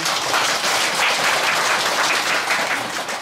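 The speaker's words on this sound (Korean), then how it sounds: "돼지띠 박수 한번 쳐주세요" Audience at a monthly first-day dharma service at a Buddhist temple breaking into dense, steady applause, clear and sustained for a few seconds with no talk over it.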